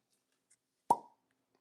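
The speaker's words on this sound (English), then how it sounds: "Nice cork pop. Very nice." A cork pops out of a wine bottle, giving one sharp, close plop that rings briefly in an otherwise quiet room.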